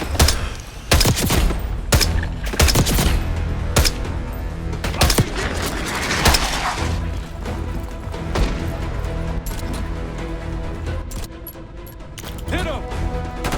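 Gunfire in Call of Duty: Black Ops 6, set in Iraq: dense bursts of loud shots and automatic fire crackle and boom continuously, with crashing impacts mixed in and voices calling out over the battle.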